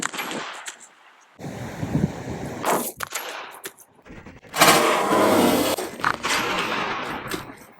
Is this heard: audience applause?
no